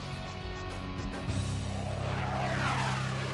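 F/A-18 Hornet fighter jet engine heard in a flight simulator game, a continuous roaring drone that swells louder and rougher partway through, with no talking.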